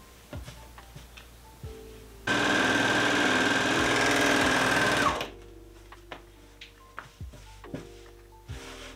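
Sewing machine joining fabric panels on patchwork trousers made from scrap fabric, one loud continuous run of about three seconds, with light clicks and fabric handling before and after.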